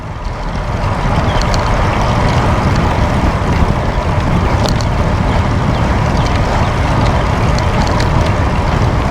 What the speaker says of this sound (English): Got some wind.